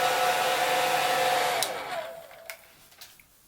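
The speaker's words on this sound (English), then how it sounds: "and you can dry it with the hairdryer." A hair dryer blows with a steady broadband whoosh and a whining tone, then cuts off and winds down, leaving faint handling clicks.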